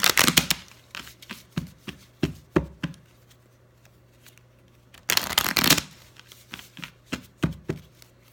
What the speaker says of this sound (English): So I'm gonna pull one of these love cards for her.